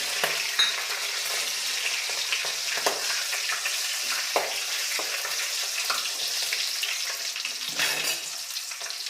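Chopped green chillies and broken dry red chillies fry in oil for a garlic bean chitranna, giving a steady close sizzle with occasional sharper crackles and stirring scrapes, with no talking.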